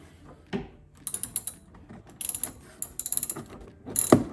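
A hand ratchet clicks in several quick bursts while backing out a T40 Torx bolt holding a Jeep 392 tail light, close and fairly quiet, ending with a sharper knock.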